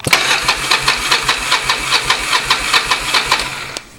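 The engine of a 1994 Yamaha Virago XV750 motorcycle cranks over without firing, a close, loud rhythmic chugging of about a dozen even beats that stops abruptly at the end.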